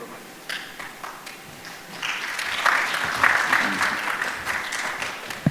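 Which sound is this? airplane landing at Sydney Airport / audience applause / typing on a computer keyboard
audience applause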